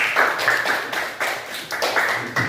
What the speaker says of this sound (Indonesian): tepuk tangan untuk Windy